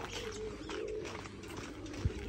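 Soft pigeon coos drift in low and hollow over quiet background noise on a poultry breeding farm, with a single sharp knock near the end.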